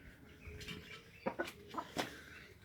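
Chickens cluck softly in a few short bursts, fairly close, with a quiet background and no talking.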